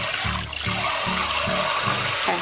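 Water poured over dried beans in a bowl to soak them as prep for a Chinese pastry filling, a close, continuous gurgling stream with a regular glugging pulse.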